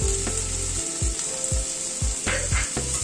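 Chopped onion, cut in large pieces, fries in a pan with a loud, steady sizzle, broken by several low thumps and scrapes from stirring.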